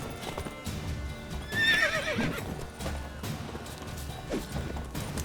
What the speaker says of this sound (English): Get off the horse, Tim.